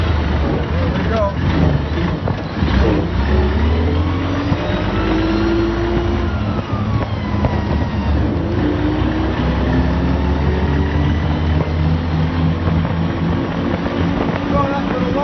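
The 1917 La Bestioni Batmobile's huge 1,013-cubic-inch engine running, a loud, continuous deep rumble with rising and falling revs, close by, with a voice speaking over it.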